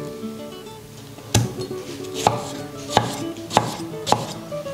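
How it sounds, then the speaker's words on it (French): A knife chops through a watermelon for a Creole fruit salad, landing four or five sharp, distinct cuts at an uneven pace over a quiet kitchen background. "Alors on va procéder à la découpe de la pastèque."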